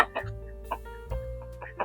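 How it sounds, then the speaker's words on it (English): Chickens cluck in short repeated bursts over a low steady hum, with a few sharper calls rising near the end. "And a bunch of chickens and ducks."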